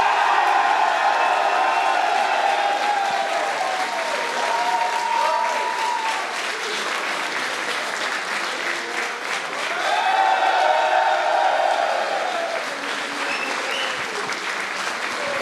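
A large esports crowd in Berlin roars with sustained applause and cheering at a Heroes of the Storm Nations Cup grand final trophy lift, steady and loud throughout with whoops rising above the clapping.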